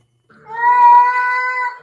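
A cat lets out a single drawn-out, tonal scream lasting over a second, loud and close, rising quickly and holding steady before cutting off, with no talk over it.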